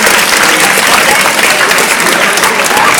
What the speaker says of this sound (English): this audience is going to give you a big round of applause